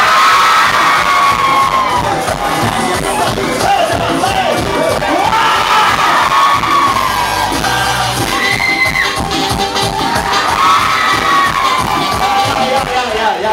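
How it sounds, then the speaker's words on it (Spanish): A loud crowd at a live clown show in Ixtapaluca cheers, whoops and shouts, with children's high voices rising above dense applause throughout. "así que fuerte el aplauso para todos ellos"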